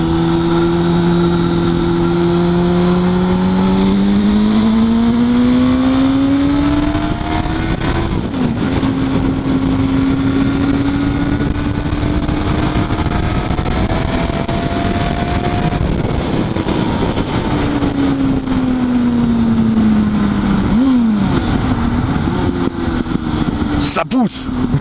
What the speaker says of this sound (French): Un petit rétrogradage de la vitesse, juste pour le style et pour faire ronfler le moteur du 600